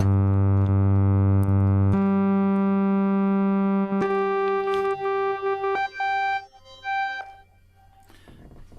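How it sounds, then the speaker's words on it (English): A raw, untreated analog synthesizer oscillator holds a bright, harmonically rich tone that steps between pitches, with sustained steady notes early and quicker changes later before fading at the end. No voices are heard. "listen to one oscillator in its purest form without any treatment to it"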